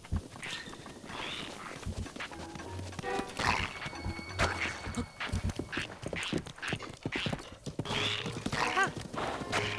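Horse hooves clip-clop steadily in Breath of the Wild, with several whinnies and neighs rising over the walking rhythm and ambient game music, close and moderately loud.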